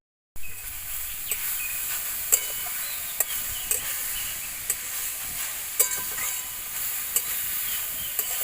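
Grated carrot laddu mixture sizzles in hot ghee in a pan, a steady hiss throughout punctuated by regular clicks and scrapes of a spoon stirring, close and continuous with no talk.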